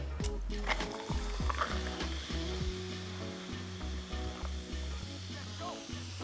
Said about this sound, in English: just topped up with some tonic water.